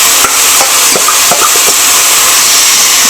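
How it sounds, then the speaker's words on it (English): Paneer tikka sauce sizzles in hot oil in a pan: a loud, continuous frying hiss with scattered crackles and pops as the sauce hits the heat, heard up close with no talking. "Hear that sizzle? The oil is nice and hot."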